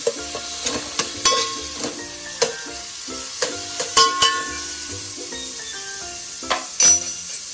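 Mutton pieces frying in a pan for spicy village-style rassa curry, a steady sizzle broken by repeated sharp clinks and scrapes of a spoon stirring against the metal pan, close and alone without talk.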